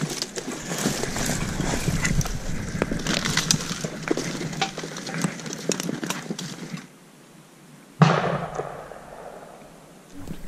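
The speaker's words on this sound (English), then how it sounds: "Was that you guys shooting?" Several sharp cracks of gunfire from a deer drive hunt on public land, distant and echoing, scattered irregularly across a busy outdoor background, followed by a quieter stretch and one more sudden burst near the end.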